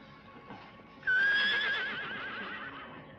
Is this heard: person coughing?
no